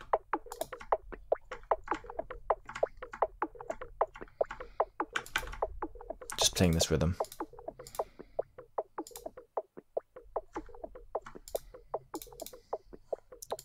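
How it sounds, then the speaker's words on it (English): Chopped-up Foley samples, processed with low-pass filtering and saturation, tap out a steady clicking rhythm of dense, evenly spaced hits, with a brief louder noisy burst midway and someone speaking briefly over it. "Then I have these Foley samples again,"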